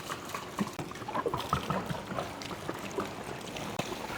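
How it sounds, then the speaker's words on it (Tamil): Twenty litres of water poured over a waterproof car body cover in Chennai, heard as a steady splashing, trickling wash that runs close and fairly loud throughout, with no voices. "ஒரு 20 லிட்டர் தண்ணி ஊற்றுறோம் இந்த பாடி கவரில்."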